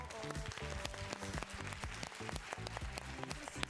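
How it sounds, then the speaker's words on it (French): A culinary show audience claps to welcome the chef: dense, rapid, fairly faint applause with many sharp individual claps, continuous throughout, with a low tonal sound underneath. "je pense qu'on peut le recevoir avec un tonnerre d'applaudissements"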